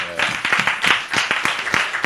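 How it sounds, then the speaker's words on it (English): An audience at a masterclass breaks into a short round of applause. A voice is heard briefly at the start, and then crisp, uneven claps follow from a small crowd at close range. "Let's give him a round of applause."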